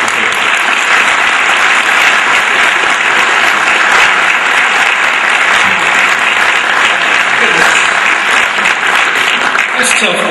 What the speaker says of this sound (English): Please join me in welcoming and give a round of applause for our speaker